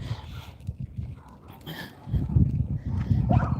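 A house dog makes low, rough snuffling and grumbling noises nearby in a suburban garden, growing louder and denser in the second half, with no one talking.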